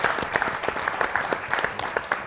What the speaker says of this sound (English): please give a round of applause to all of them